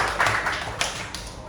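A primary school class claps hands together on cue in a classroom, a brief burst of fairly loud, dense clapping with a few sharper accents, lasting only a moment.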